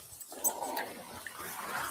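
A dog gives a brief, faint whimpering growl in a winter rescue setting, half-buried under steady broadband noise.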